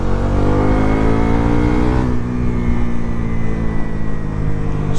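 A Bajaj Pulsar NS 400Z motorcycle revs while riding, its engine roaring loud and steady and rising in pitch through the first seconds before settling, close with wind rush and no talking.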